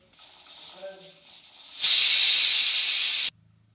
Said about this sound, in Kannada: 2 ವಿಸಲ್ ಆಗಿದೆ.